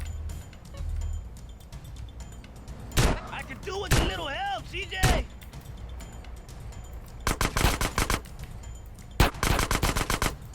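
Gunfire in the video game GTA San Andreas: scattered loud single shots, then tight rapid bursts of automatic fire near the end, close and sharp over low engine-like rumble, with a brief whooping tonal sound in between.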